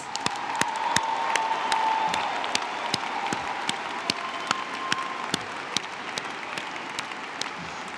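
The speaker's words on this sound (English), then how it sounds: "Give them a round of applause." Sustained applause from a large crowd at the 2018 University of Denver commencement honoring the graduating class, dense steady clapping with sharp individual claps standing out, swelling at first then gradually thinning.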